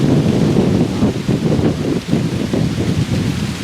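Strong wind roars steadily outdoors during a Pennsylvania rifle deer hunt, a loud gusting rumble buffeting the microphone with surging and easing bursts throughout.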